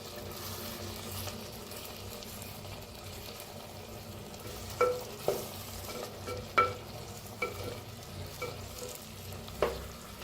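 Stuffed tomatoes being stirred in a pan over low heat, giving a steady soft sizzle with a handful of light scraping clicks from the spoon spaced through the second half.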